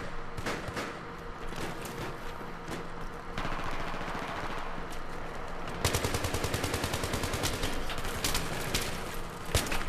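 Rapid automatic gunfire in Battlefield 3 on Ziba Tower, loud, close bursts that turn into a dense, fast rattle partway through, alone with no talk.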